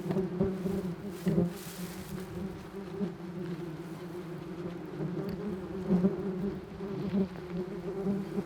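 Yellow jackets buzz at an underground nest that has been dug up with a spoon, a steady low droning hum with brief louder swells as individual insects fly close.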